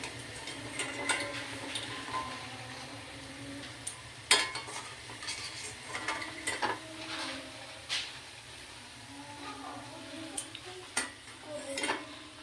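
Bengali lentil pakoras (daler bora) frying in a batch of oil, a soft continuous sizzle broken by sharp clinks and scrapes of a utensil against the pan, close and fairly quiet.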